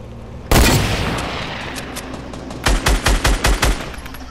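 Loud close bursts of SMG gunfire in Fortnite, one heavy blast followed by a decaying tail, then a rapid string of about six sharp shots in quick rhythm, with no talking over them.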